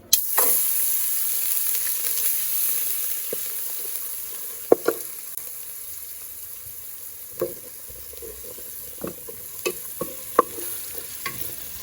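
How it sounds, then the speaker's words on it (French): Crushed onion sizzles steadily in a hot pan for Ivorian pistachio sauce. Scattered sharp clicks and scrapes of stirring cut through the constant fry, with no voices. "Là, je mets l'oignon écrasé."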